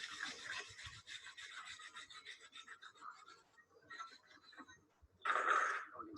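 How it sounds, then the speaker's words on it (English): A brush scrubs the surface of a fusion weld on metal in quick, close rasping strokes that slow and fade, then end in one louder burst of scrubbing. "Once it's dried off, you can shine it up with a brush."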